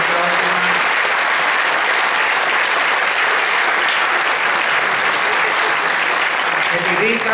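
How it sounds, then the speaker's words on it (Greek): An audience gives sustained, loud applause for a group of children, a dense and even clapping wash that holds unbroken for several seconds with a faint crowd murmur beneath. "δώστε τους ένα δυνατό χειροκρότημα"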